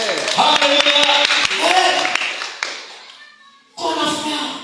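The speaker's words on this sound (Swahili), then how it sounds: "Piga Bwana makofi kwa jina la Yesu" A church congregation claps hands together in a burst of sharp, rhythmic claps, with voices singing and calling out over them, fading briefly before another swell of sound.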